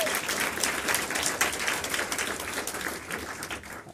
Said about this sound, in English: That was pretty good sizable applause there.